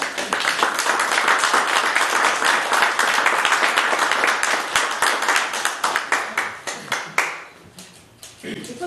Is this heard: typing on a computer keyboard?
no